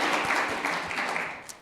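Brief burst of audience applause at a conference talk on Postgres and high-performance computing, dense clapping that fades slightly over under two seconds.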